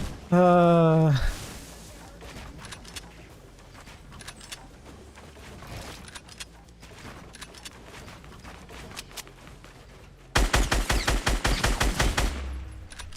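Rapid automatic gunfire in a shooter video game: a loud, dense burst of shots near the end, after a quieter stretch of game sounds and a brief tonal sound at the start.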